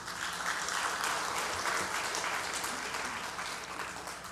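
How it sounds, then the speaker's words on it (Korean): Sustained applause from a church congregation during a Sunday worship service, a steady dense clapping that holds evenly throughout and fades slightly toward the end. "박수 주세요."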